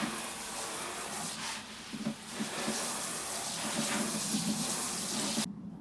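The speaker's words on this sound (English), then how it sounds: "I'm going to get a good watering first though." Water sprinkled over a prepared onion bed in an allotment: a continuous close hissing splash that swells and shifts slightly, then stops suddenly near the end, with no talking.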